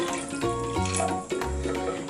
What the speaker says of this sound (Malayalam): 1 കപ്പ് വെള്ളം കൂടി ഒഴിച്ചു കൊടുക്കാം.